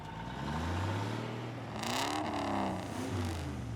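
Cartoon truck engine labouring with stiff gears, a steady rumbling drone that rises into a strained revving whine midway, then settles back, loud and close with no talk.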